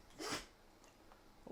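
A single short sneeze from a pet bird, a sharp burst near the start followed by faint quiet breathing and small movements.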